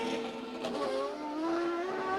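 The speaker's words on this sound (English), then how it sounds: "And up come the revs." A CART race car engine revs up in the pits during the 2002 Montreal round, a clear high whine climbing steadily in pitch, heard at moderate distance with some background crowd and track noise.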